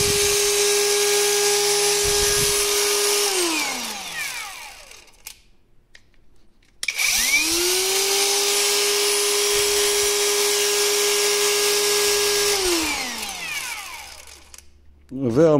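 A Parkside Performance PWSAP 20 Li C3 cordless brushless angle grinder running with no disc fitted: two close bursts, each a steady high whine that starts up, holds and then winds down, separated by a short silent pause.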